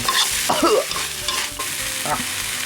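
Quail and young fingerroot stir-fried in a hot pan for a spicy Thai dish, giving a steady close sizzle broken by several scraping stirs of a spatula, with no talking.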